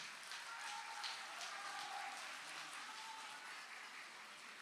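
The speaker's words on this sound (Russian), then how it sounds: "Ваши аплодисменты, сводный хор женщин Севера." An audience in a hall applauds a combined women's choir at a ceremonial opening of a northern women's congress, with steady, soft, distant clapping that holds at an even level throughout.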